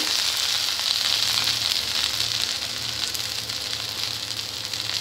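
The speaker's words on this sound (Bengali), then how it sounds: "আরও আমি এক মিনিটের মতো এটাকে হাই ফ্লেমে ফ্রাই করে নেব" Onion stalks and potatoes fry on a high flame, a steady dense sizzle and hiss that runs evenly and loud throughout with no voices.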